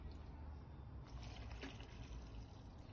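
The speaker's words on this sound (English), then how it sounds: "This is 280 ml of water, so we can pour it all" Water, 280 ml, poured into a children's volcano science kit, a faint trickling splash that swells around the middle, with no talk.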